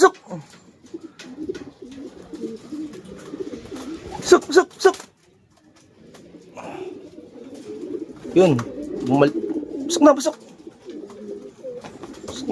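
Pigeons arriving back from training coo in low, repeated throaty calls close by, with wing flutters and someone talking over them at times.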